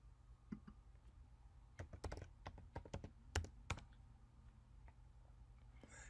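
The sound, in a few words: typing on a Mac computer keyboard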